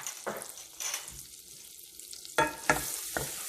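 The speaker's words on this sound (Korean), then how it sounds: "보통은 한 2큰술 정도, 하나, 2큰술 정도의 밀가루를 넣고 볶아주세요." About two tablespoons of flour are stir-fried in a pot to make a roux for beef stew, giving a soft sizzle broken by scraping bursts as the spatula sweeps the bottom, close and without speech.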